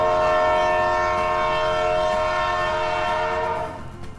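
A train rolls past a railway bridge over the Brazos River, its horn blaring loud and sustained over the rumble of the cars, fading slightly at the end.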